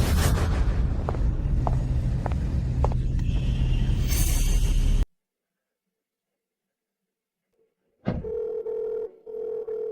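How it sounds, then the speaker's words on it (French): A telephone signal sounds after a loud stretch of noise: about five seconds of dense sound, a few seconds of silence, then a steady tonal phone tone that holds, breaks briefly and returns. "Réponds au téléphone, fils ingrats."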